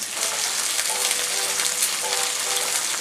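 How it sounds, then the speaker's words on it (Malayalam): Chicken pieces fry in hot oil with a dense, even crackling sizzle close up that holds steady for the whole stretch, and no voices. "എണ്ണ ചൂടായി കഴിയുമ്പോൾ ചിക്കൻ ഇടാം."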